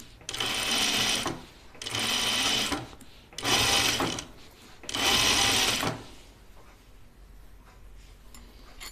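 Sewing machine stitching a shirtdress at its side seams, running in four loud bursts of about a second each with short pauses between, then quiet handling sounds.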